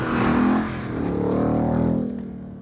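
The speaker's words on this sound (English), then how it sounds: "this truck feels surprisingly controlled when you pick up the pace and speed off-road" A 2027 Ram SRT TRX pickup with 35-inch tires accelerates hard over sand and uneven off-road ground, its engine roaring loud and steady, rising then easing off at the end.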